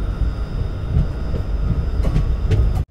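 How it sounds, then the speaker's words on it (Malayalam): Parasuram Express running on rails toward Ernakulam Town, heard from on board as a steady loud rumble with faint clicks of wheels over rail joints, no voices. "എറണാകുളം ടൗണിലേക്കാണ് ട്രെയിൻ പോകുന്നത്."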